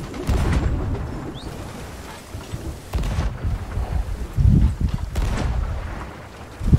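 Cannons fire chain shots in a pirate naval battle in Sea of Thieves, heavy booming blasts recurring several times over rumbling wind and sea noise, loud and close.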